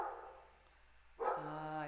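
Pet dog barking indoors, a faint muffled woof early on and then a louder, closer bark with a short whine, heard alone.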